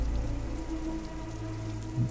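Rain pours down outside in a Star Wars audio drama, a steady close patter of drops on a surface with a low rumbling bed beneath and no voices.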